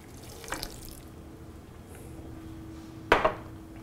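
Apple cider vinegar, measured out as a half cup, is poured during outdoor fire cooking, giving two short liquid splashes with a louder one near the end over a quiet background.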